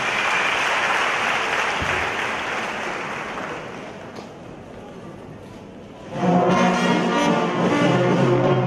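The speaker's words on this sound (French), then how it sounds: "Sous vos acclamations, s'il vous plaît." Applause from an audience at a ceremony fades to a softer patter, then a brass fanfare or music swells loudly near the end.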